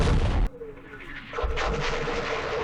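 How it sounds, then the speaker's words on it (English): Mortar and artillery fire in the wargame Campaign Series Middle East: a heavy blast cuts off sharply, followed by a quieter rumbling echo and a second distant boom rolling in. "Our mortar, our artillery."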